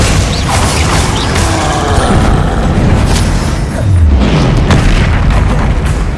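Spellcasting in the video game Hogwarts Legacy as the Glacius ice spell is cast amid combat, with loud continuous rumbling blasts and mechanical whooshes layered densely throughout.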